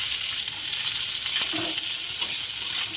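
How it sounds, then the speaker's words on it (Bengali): Chopped onion fries in hot oil in a kadai with dry red chilli and whole cumin, giving a steady, close, loud sizzle with a few faint stirring scrapes. "পেঁয়াজটা ভালো করে ভেজে নেব।"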